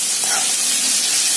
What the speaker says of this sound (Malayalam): ആ 4 ഉള്ളി നമുക്ക് എണ്ണയിലേക്ക് ഇട്ട് കൊടുക്കാം.